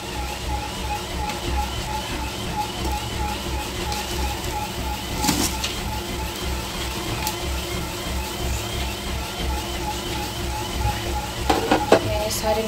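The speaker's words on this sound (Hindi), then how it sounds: "अभी मैंने यहाँ पे नूडल्स डाल देती हूँ।" Noodles going into a pot of already boiling water and being stirred: a continuous bubbling, sizzling hiss with occasional clinks near the end.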